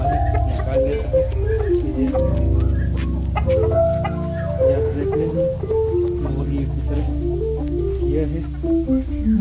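A rooster and hens on a poultry farm keep up loud, continuous clucking and calling, close by and overlapping, with a voice faintly underneath.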